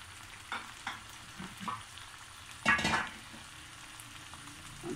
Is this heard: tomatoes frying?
yes